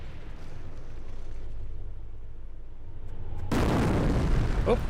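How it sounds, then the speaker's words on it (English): Incendiary mortar shells strike in the World War II strategy game Company of Heroes: a low battlefield rumble gives way to a sudden loud, dense burst of explosive impact and crackling fire near the end, with a voice talking. "Oh, great incendiary mortar there."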